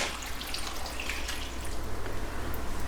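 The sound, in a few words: pouring filtered water over chopped potatoes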